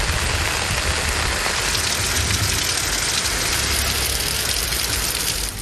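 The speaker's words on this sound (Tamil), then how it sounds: "பெய்த மழையால் இருசக்கர வாகன ஓட்டிகள் நனைந்தபடி சென்றனர்" Heavy rain pours steadily onto a road in Tamil Nadu, a dense continuous hiss with faint engine hum from passing two-wheelers beneath it, loud and unbroken throughout.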